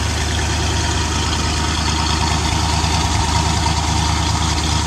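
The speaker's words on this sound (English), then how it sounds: "Let you listen to this exhaust on this 350." The 350 V8 of a 1976 Corvette Stingray idles loudly through its exhaust, a deep, steady burbling rumble with a slight lope, close to the pipes.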